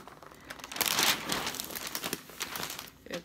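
Wrapping paper crinkles and rustles as it is folded over a gift, a close, loud crumpling swell followed by softer intermittent crinkles.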